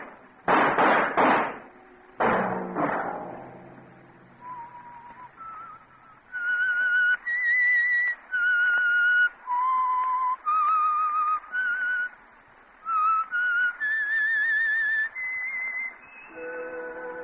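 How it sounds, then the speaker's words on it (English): A lone whistler performs the eerie theme melody of The Whistler old-time radio show, opening with two sharp orchestral stabs, then clear sustained whistled notes in a slow, wavering tune, loud and close. "Let that whistle be your signal for the signal oil program, The Whistler"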